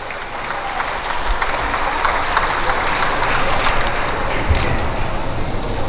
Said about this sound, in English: Let's have a round of applause for those guys.